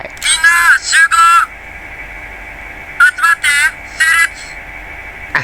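A Kamen Rider Gavv DX Gochizo talking toy plays electronic voice effects in chirpy, processed bursts: a cluster of three, a pause, then several short warbling blips, loud and close.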